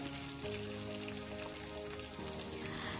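Garlic and small shallots sautéing in hot oil for a fenugreek tamarind curry give a steady, dense crackling sizzle, close and continuous with no pauses, and no voices over it.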